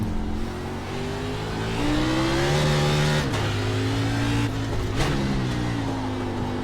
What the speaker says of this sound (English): Time for the 2016 Xfinity Series Ford Mustang